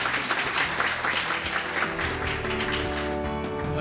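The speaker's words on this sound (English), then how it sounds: "Please give them again a round of applause" An audience at a history challenge bowl event gives a round of dense, steady applause that carries through the whole stretch, with faint speech mixed in toward the end.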